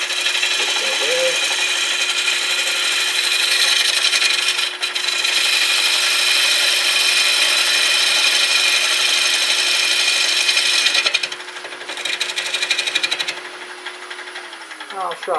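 Wood lathe turning a wet wooden bowl while a tool cuts, producing a steady close hissing, scraping shear that swells and eases across the pass, with someone talking briefly under it.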